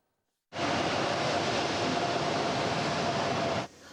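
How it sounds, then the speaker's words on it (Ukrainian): An evacuation train arriving in Rivne region from Donetsk region is heard as a loud, steady broadband roar of rolling carriages that begins suddenly and runs for about three seconds before cutting off to a quieter hum. "Потяг з Донеччини прибув на Рівненщину"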